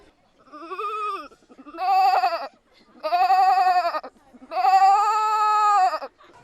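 A voice mimics a goat's bleat, giving four wavering nasal bleats of rising length, loud and near with short pauses between them.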